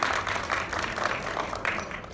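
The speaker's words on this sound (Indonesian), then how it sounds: "Boleh tepuk tangan buat Bapak Hadiana Santoso ya." At a community dinner event in Indonesia, the audience claps for an honored guest, a continuous close wash of many hands clapping at even loudness for the whole span.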